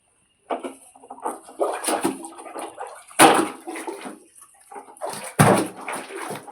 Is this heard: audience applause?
no